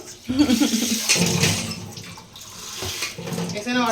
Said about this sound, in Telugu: కొంచెం వాటర్ పోయాలి